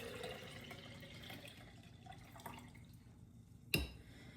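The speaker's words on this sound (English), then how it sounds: "I'm just gonna strain the water kefir into a different jar." Water kefir being strained into a jar: faint, intermittent trickles and drips of liquid, with a soft glassy clink near the end, in a quiet room with no talking.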